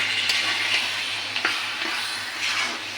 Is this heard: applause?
no